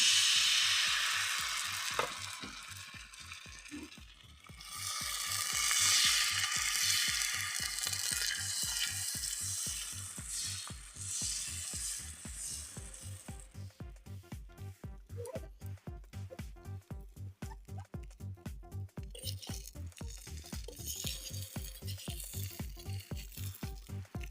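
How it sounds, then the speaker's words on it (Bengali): Patisapta pancake batter sizzles and fries in hot oil in a pan, a steady close crackle and hiss running throughout with a faint rhythmic tapping underneath and no talk. "তেলটা দিয়ে দিলাম ব্যাটারটা দিয়ে দিলাম"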